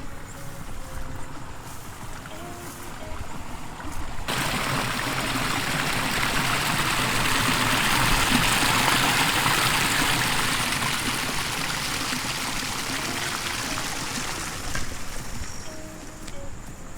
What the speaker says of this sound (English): this is the flow of the river right now